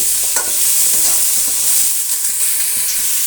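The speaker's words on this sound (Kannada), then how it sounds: "ಎಣ್ಣೆಯಲ್ಲಿ ಚೆನ್ನಾಗಿ ಫ್ರೈ ಮಾಡ್ಕೊಳ್ಳೋಣ" Spices and curry leaves fry in oil for a bitter gourd masala gojju, making a loud, continuous sizzle and hiss with faint stirring scrapes close by.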